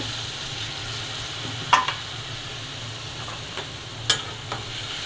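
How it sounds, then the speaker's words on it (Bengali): Water spinach (kolmi shak) curry with turmeric, dried chili, salt, coriander and cumin being stirred in a pan, a faint steady sizzle broken by a few sharp scrapes of the spoon, with no talking. "এখন সব কিছু ভালো করে নেড়ে চেড়ে একটু কষিয়ে নেব"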